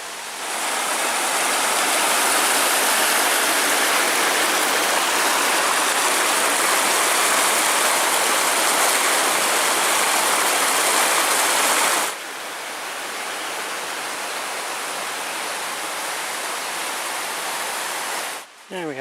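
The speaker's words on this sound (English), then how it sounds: "The Union Springs Trail actually crosses the river right here" A river stream flowing along a backpacking trail in the Porcupine Mountains, Michigan: steady, loud broadband rushing water that drops slightly in level partway through, with no talk over it.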